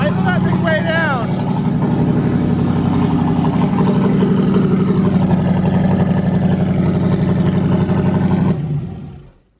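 A turbocharged LS truck engine fitted in a Corvette idles loud and steady on its first start, a dense low rumble running almost nine seconds before cutting off abruptly, with people talking over it.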